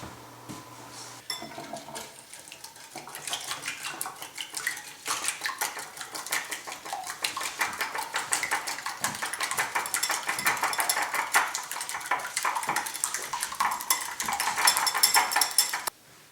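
Chocolate chip cookie ingredients being mixed and beaten in a bowl, a rapid continuous clatter of utensil against bowl that grows busier and louder toward the end, with no talking.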